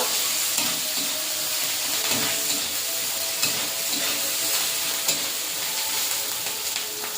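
Chopped onions frying in hot oil in a kadai, a steady close sizzle with bursts of crackling and occasional stirring scrapes, loud and continuous with no talking.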